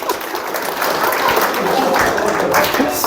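An audience at a relationships and communication lecture breaks into applause, a steady wash of clapping that swells after the first second and holds at a full, close level.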